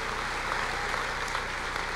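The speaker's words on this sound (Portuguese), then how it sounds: "Pode aplaudir ao Senhor." A church congregation applauds in praise, a dense steady wash of clapping from many hands filling the room at even volume throughout.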